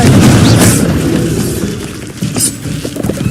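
A Confringo fire spell explodes in Hogwarts Legacy: a loud, deep boom bursts out, then a second, smaller blast follows with a crackling rumble that fades.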